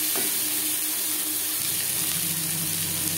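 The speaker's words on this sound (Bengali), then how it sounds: "10-15 সেকেন্ড কাঁচা লঙ্কা ভেজে নেওয়ার পর দিয়ে দেবো কাঁকরোল" Pieces of teasel gourd (kakrol) go into a pan of frying green chilies, over a steady, close hissing sizzle that shifts in tone as they land.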